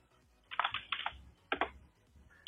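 Keys clack on a computer keyboard during PCB design software work, in two quick close bursts of typing separated by a short pause, with no voices.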